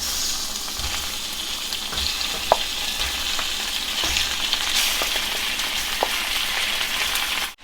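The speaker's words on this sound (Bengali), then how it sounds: "এখন আমি এর মধ্যে মাংস ছেড়ে দেব।" Chicken pieces fry in a pan with onions cooked until browned and reddish, making a loud, continuous sizzle with occasional scraping clicks from stirring and no voices.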